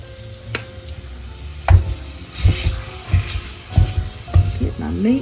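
Ground beef seasoned with salt, pepper, garlic and parsley sizzles in a pan while a utensil stirs and scrapes it in repeated close strokes, a voice briefly heard in the background.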